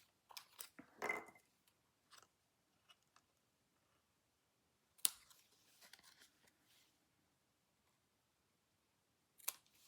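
Scissors cutting a paper strip for a handmade card, a few quiet close crisp snips and rustles separated by silent gaps, faint overall.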